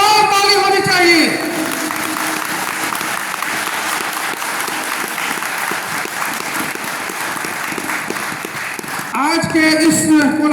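Strong applause from an audience at a regional JPSS convention, dense steady clapping filling most of the stretch, with a voice speaking briefly at the start and again at the end.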